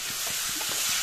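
Small fish placed into a hot pan of oil fry with a steady, loud, close sizzle and hiss. Faint soft stirring knocks sound beneath it, with no talking.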